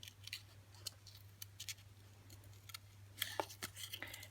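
Scissors snip through paper while cutting out a shaker embellishment for mini jars, a series of short, crisp clips in irregular bursts, close and fairly quiet over a steady low hum.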